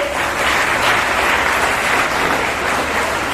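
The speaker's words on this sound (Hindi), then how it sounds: "आप लोग प्लीज एक बड़ा ताली हो जाए इन सबके लिए" A large audience claps steadily and loudly throughout, a dense, even wash of applause at an event honouring district teachers, journalists and students, with no voices standing out.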